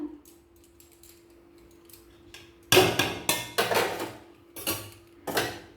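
A cooking pot is lifted off a gas stove with a series of sharp metallic clanks and knocks, close and fairly loud, after a quiet start with a faint steady hum.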